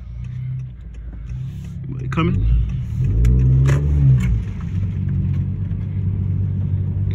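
A 2019 Honda Accord 1.5 with an AEM intake and new engine mount accelerating in rain, a mid-pitched engine note rising over steady road rumble from inside the car, with a person speaking briefly.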